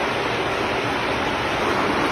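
Steady rain falls outside on a rural village morning, a continuous, even hiss of water at moderate volume with no talk and no break throughout.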